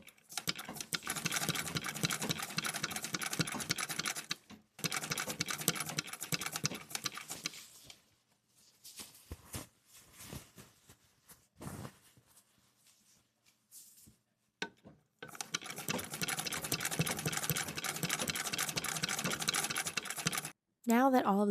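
Sewing machine stitching cuffs onto the legs of bib pants, running in long steady bursts with brief stops and a quieter stretch of handling noise in between.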